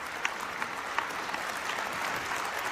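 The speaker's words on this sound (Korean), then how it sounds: "큰 감사의 박수를 보내주시면 좋겠습니다." Audience applause at a Korean Peninsula peace summit ceremony, a steady dense clapping wash from a crowd throughout, moderately distant with a few sharper individual claps.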